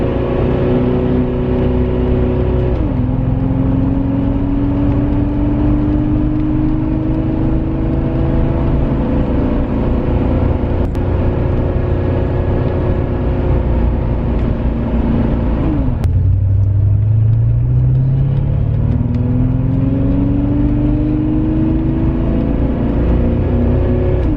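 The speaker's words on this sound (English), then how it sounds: "our 1985 Porsche 928. So I thought I'd document what it's like to drive one." A 1985 Porsche 928 on the road, heard from inside as a steady loud engine drone that rises through the gears with two clear shifts and a dip in revs, over constant road rumble.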